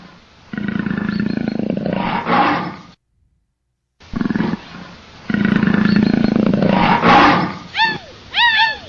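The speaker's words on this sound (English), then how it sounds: "The pandas run away when they hear the leopard roar" Leopard roar sound effect for a pandas animal-rescue story, loud and close, in several long rasping bursts separated by a brief silence, ending in a few sharp rising squeals.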